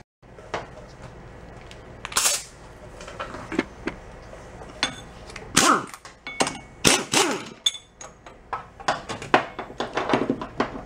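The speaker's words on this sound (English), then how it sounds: "get an impact gun" Metallic clanks and sharp impact bursts from an impact gun working on the engine of a Beaver amphibious vehicle, several uneven hits spread through a cluttered, echoing workshop.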